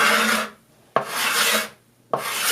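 A card scraper edge being sharpened to raise a burr, heard as three long, loud rasping strokes, each starting with a sharp attack and then fading, with short quiet gaps between them.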